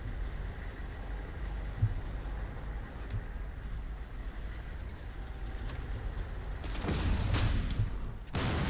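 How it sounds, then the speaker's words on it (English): Explosions going off in the shooter game Crysis Remastered, a steady rumbling bed of gunfire and blasts that swells louder near the end with a sharp burst, no voices. "Now they are exploding."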